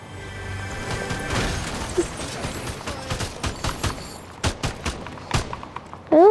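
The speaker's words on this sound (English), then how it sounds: "There's a lot of gunfire right here." Gunfire in a video game sounds as a string of muffled bursts and thuds of varying strength, some sharp cracks near the end, with mechanical clatter around them.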